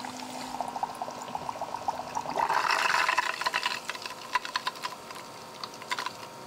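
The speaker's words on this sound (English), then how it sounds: "so we need to pour in a lot of water fast." Water poured quickly into an HHO generator container holding lye, a rushing splash that swells midway and then breaks into scattered drips and gurgles.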